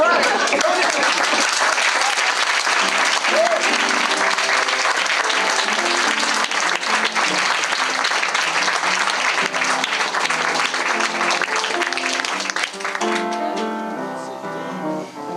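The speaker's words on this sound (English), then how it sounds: "Who didn't applaud on that one?" Dense, loud audience applause at a live family show in 1986, sustained crowd clapping that thins out near the end as a voice begins.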